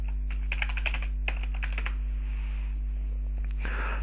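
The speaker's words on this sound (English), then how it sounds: "let me just type in crescendo" Quick clusters of computer keyboard keystrokes clatter close by, a dense burst of typing followed by a pause and a few final taps near the end.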